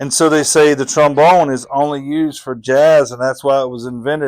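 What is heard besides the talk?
No distinct noise like a dog, phone or traffic.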